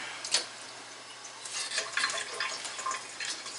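Water runs from a tap in a soft, splashy stream, quiet and steady with small bursts of spatter, no voices.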